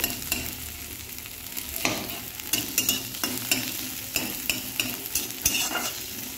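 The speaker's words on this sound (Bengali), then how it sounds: "ঢেলে দেওয়ার পরে পেঁয়াজটা ভালোভাবে একসাথে মিশিয়ে নিচ্ছি" An onion mixture is stirred and fried in a pan for a cauliflower dish, giving a steady sizzle broken by repeated scraping strokes of a spoon at an uneven rhythm, close and fairly loud with no voices.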